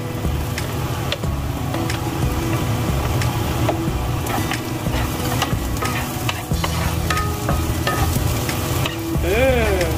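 Garlic fries and is stirred in a pan for rice vermicelli (bihon guisado), giving a loud, continuous close sizzle with scraping stirring strokes throughout.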